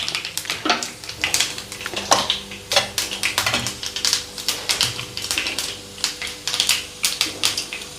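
Chana dal and urad dal with seeds crackle and splutter in hot oil in a pan, a dense, steady stream of sharp pops and crackles heard close up without talk.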